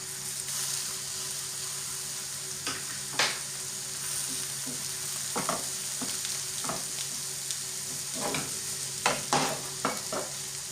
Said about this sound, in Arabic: البصله ديالنا راه كتشحر، البصله ديالنا كنخليوها حتى كتذوب